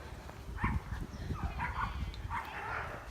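Dogs belonging to a group of walkers bark and yip faintly at a distance along a river walk trail in a park, several short bursts amid soft background noise.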